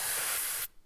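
Water spraying in the Roblox game Cleaning Simulator, a steady broad hiss that runs loud for over half a second and then cuts off abruptly, leaving near silence.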